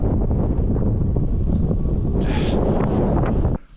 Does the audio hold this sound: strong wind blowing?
yes